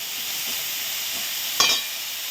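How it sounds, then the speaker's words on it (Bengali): Potato and eggplant fry in a pan, giving a steady, fairly quiet sizzle and hiss with a short louder burst of spitting near the end, with no talking. "আলুটা আগে আলুটা বেগুনটা দিলাম, ভেজে নিই"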